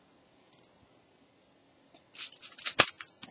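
An Ideazon Zboard Crossfire gaming keyboard comes out of its packaging: quiet at first, then a close burst of crisp plastic crinkles and clicks over the last second or so.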